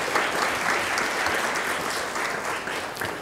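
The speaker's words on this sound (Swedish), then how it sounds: "En applåd." A room full of attendees at a Swedish startup competition launch event applauds, giving a warm, continuous wash of clapping that stays steady throughout the few seconds without any voices on top.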